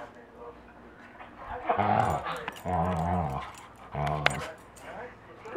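Dogs growling and whimpering over a bone, low grumbling growls rising into whiny vocal bursts in three bouts, close and indoors, with a person's voice mixed in.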